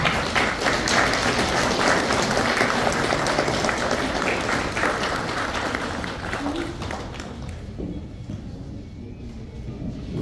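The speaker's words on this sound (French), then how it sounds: "que je vous demande tous d'applaudir intensément" A crowd applauds at an 80th birthday celebration for Reverend Jeanine Yambuya in Liège, Belgium, a steady loud wash of clapping that thins and fades toward the end.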